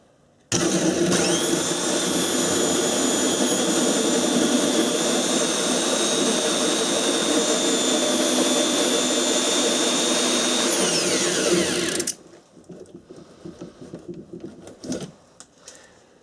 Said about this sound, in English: all I have to do is take my 3 1/8 inch hole saw there